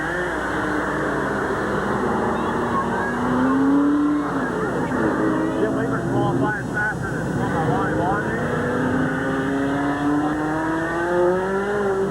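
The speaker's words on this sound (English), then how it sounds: "We got 2, 4, 6, 8, 10 cars coming out." Race cars at a 1985 speedway run steadily, with rising engine whines and droning motors that fill the whole span, while an announcer talks over the track noise.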